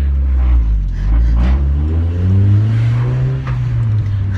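A car rolls off Rhino ramps with a loud, close, steady engine drone that rises slightly in pitch as it pulls away, with no voices.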